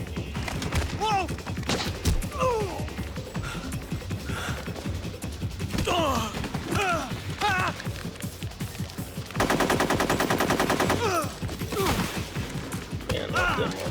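Automatic gunfire from the video game Metal Gear Solid 3, bursts scattered through the stretch and a dense sustained volley near the end, mixed with gasps, crashes and shouting voices.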